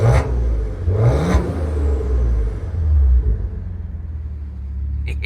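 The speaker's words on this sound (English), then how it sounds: "I want you to hear this thing in sport mode." A 2017 Maserati Ghibli SQ4 with a twin-turbo V6 and all-wheel drive revs in sport mode, heard from outside the window, giving a deep rumbling engine note with rising rev sweeps early that settles into a steady drone.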